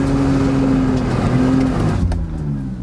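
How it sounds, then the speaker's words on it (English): A BMW's engine is held at steady high revs while the driver prepares to dump the clutch and left-foot brake for a drift, a loud, sustained drone that dips slightly near the end, with no talking. "rev the engine, dump the clutch and left foot brake quickly"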